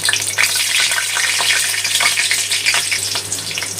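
Black cumin seeds with a cut dry chilli and two green chillies frying in hot oil for kalmi greens, a loud, steady close-up sizzle and crackle that runs unbroken throughout, with no voices.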